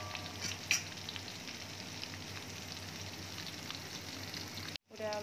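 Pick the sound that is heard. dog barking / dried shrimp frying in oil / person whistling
dried shrimp frying in oil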